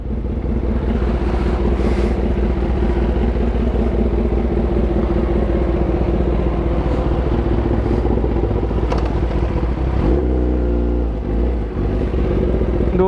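Big bike motorcycle ridden fast along an expressway, a loud steady engine drone and wind rumble throughout, with a brief shift in engine pitch near the end, no speech.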